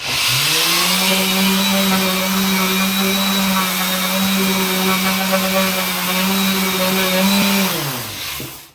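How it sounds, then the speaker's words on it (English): A power sander grinds down filler spots on a wooden fireplace mantel, producing a loud, continuous motor drone that holds steady for about eight seconds before winding down. "we are going to sand down these places where we put that filler"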